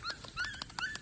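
A hunting poodle whimpers in a run of short, high, whiny yelps, several quick cries close to the microphone with no talking.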